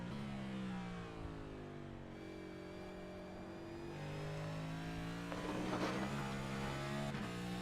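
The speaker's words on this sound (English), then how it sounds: "You hear all that rumbling and crackling and scraping. That's the underside of this next-gen Cup car." A next-gen Cup car in iRacing at Watkins Glen International drones along with its engine pitch rising and falling, while a rougher burst of rumbling and scraping from the underside shows up near the end. No one speaks.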